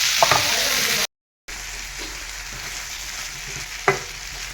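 Vegetables sizzling loudly in hot oil in a pan beside fish, with a steady close hiss, a brief dropout, and occasional spatula scrapes and taps as they are pressed and turned.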